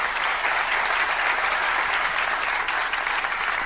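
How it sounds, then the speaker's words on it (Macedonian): An audience at a stand-up comedy show applauds, a dense, steady wash of clapping from many hands that stays even and loud throughout. "Ве молам еден аплауз прво за нив."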